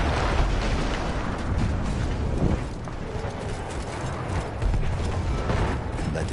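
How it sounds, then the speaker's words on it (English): Explosion in Rainbow Six Siege: a dense, rumbling wall of blast noise and crackling debris that swells and lingers, loud and continuous, with no talk. "That explosion was one of the sweetest sights of the war for me."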